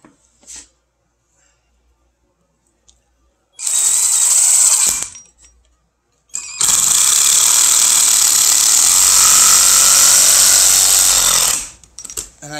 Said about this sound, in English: And I countersink them down as far as I can, about a quarter to a third of the way in to that piece of wood there.